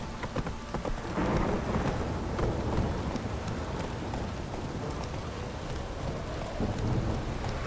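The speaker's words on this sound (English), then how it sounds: "This downpour's a bastard, it is. It's blowing, pouring again." Heavy rain and rolling thunder in The Witcher 3 video game, with a horse's hooves clopping beneath a continuous dense downpour and a low rumble swelling early on.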